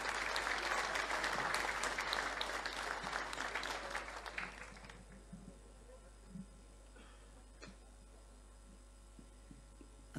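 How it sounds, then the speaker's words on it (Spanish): Applause at a departmental legislative honor session in Cochabamba greets the governor, loud and dense clapping from a crowd for about five seconds before fading to a quiet room hum with scattered small sounds. "a quien lo recibimos con un fuerte aplauso, al hermano Humberto Sánchez Sánchez"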